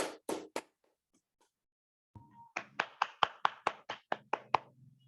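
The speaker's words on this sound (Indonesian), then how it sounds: "Kita beri tepuk tangan." A classroom of fourth-grade pupils clapping for a classmate's answer: a few loud claps, a pause, then a steady run of about a dozen sharp, evenly spaced claps up close, with a faint tone underneath.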